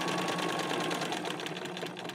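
A sewing machine stitches a seam on a simple medieval tunic, a fast, even, buzzing run of stitches heard close and loud, stopping abruptly at the end, with no talking.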